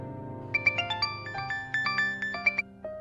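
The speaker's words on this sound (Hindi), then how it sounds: "अरे अश्विन को फोन करना भूल गए" A telephone ringtone plays a bright melody of short tonal notes in a Hindi TV drama scene, the notes clear and alone without any talk.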